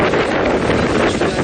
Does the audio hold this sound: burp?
no